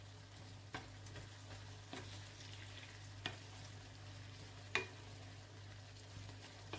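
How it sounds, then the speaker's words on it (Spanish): Red and green peppers with onion fry in a pan for pollo al chilindrón, a soft, quiet sizzle over a constant low hum, punctuated by a few sharp stirring clicks. "Bueno, pues esto ahora, a freírlo bien."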